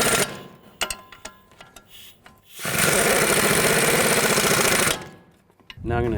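A power tool snugs the nuts on the front strut assembly of a 2012–15 Chevy Cruze in one loud burst of about two seconds, with scattered metallic clicks and clanks before and after it.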